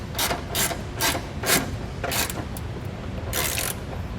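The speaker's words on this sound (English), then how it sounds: "don't forget to tighten your 13mm bolt that you have here as well" A ratchet wrench tightens a 13mm bolt on a Curt trailer hitch receiver, with repeated close clicking strokes in uneven short bursts and a longer pull near the end.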